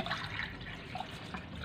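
Water poured into a pot of rice with pandan leaves gives a steady close splashing and trickling that runs unbroken through the whole short stretch, fairly soft, with no voices over it.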